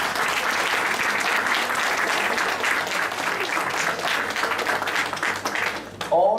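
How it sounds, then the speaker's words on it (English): Audience applause at a Toastmasters-style meeting for a table topics speaker, a dense steady wash of many hands clapping across the room that fades near the end, with no talk over it. "Give him a round of applause."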